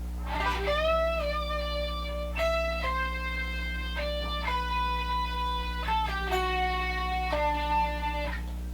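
Electric guitar phrases with bent and sliding notes ring out clearly over a steady low hum, each note sustaining before the next.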